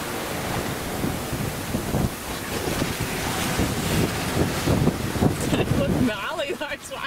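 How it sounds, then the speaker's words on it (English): Waves and strong wind buffet a sailing catamaran off Cape York at the northern tip of Australia, a loud continuous rush of water and wind noise, with a voice briefly speaking near the end. "Look gnarly those waves. It's scary, they're really standing up."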